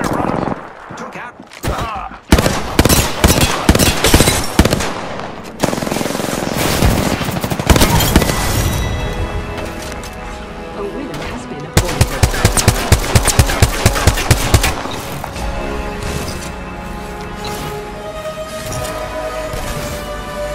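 Bursts of automatic gunfire in the battle-royale game Apex Legends, loud and close, rattling in rapid volleys across the whole stretch with game music and effects underneath and a voice talking at points.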